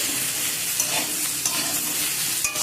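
Chopped vegetables and tomato stirred in a hot frying pan, a spatula scraping and clattering close up over a constant bright sizzle.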